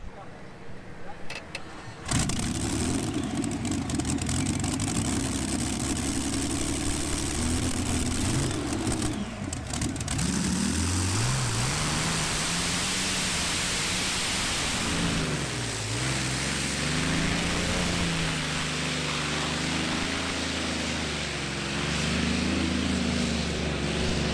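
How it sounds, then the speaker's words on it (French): A large pulling tractor powered by two Rolls-Royce engines roars loudly and steadily, its engine note rising and falling as it revs, with a brief quieter moment at the start. "Deux moteurs Rolls-Royce."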